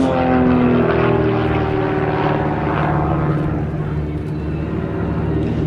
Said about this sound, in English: the two aircraft coming in still with smoke on to perform 1/4 of a cloverleaf